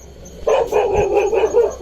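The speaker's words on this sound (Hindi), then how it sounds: "जिस तरह से कुत्ता भौंक रहा है, इसका मतलब लेपर्ड है।" A dog barks at a leopard near a jungle resort in Rajaji National Park, repeatedly in quick succession, fairly close and loud, the barks running together into a steady volley.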